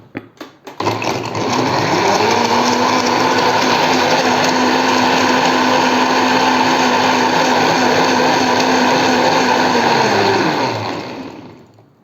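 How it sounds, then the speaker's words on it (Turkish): A blender whirs steadily for about ten seconds as it mixes mineral water, pineapple and almond milk, starting up after a few clicks and winding down at the end, loud and close with no talking. "Ve hepsi blenderdan."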